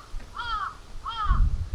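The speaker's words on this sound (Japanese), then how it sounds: "カラスの鳴き声聞こえると思いますけども、" Crows caw twice in a park in Osaka, Hanahaku Memorial Park at Tsurumi Ryokuchi. The two clear, fairly close calls are spaced about a second apart, with low background rumble and no talking.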